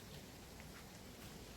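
Rain falls in large drops with water dripping from the eaves, a faint, steady soft patter throughout with no voices.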